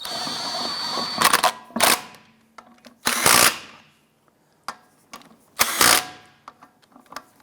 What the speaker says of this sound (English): Go ahead and install your wheel assembly. Get the lug nut started.